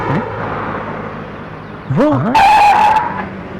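A car pulls up in a residential colony with engine noise, then its tyres give a sharp rising squeal and a loud skid as it brakes hard to a stop, with a brief spoken word just before.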